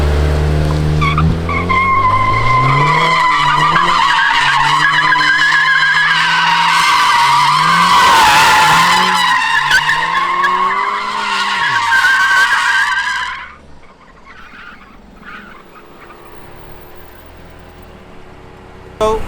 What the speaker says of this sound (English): when you push the throttle with the rear wheels with the right steering angle, the car goes very easily sideways